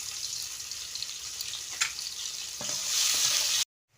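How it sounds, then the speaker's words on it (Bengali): Sliced pointed gourd (potol) fries in hot oil, a steady close sizzle with light scraping stirs, growing brighter and louder before cutting off abruptly, with no talk. "এবার পটলটা ভেজে নেব।"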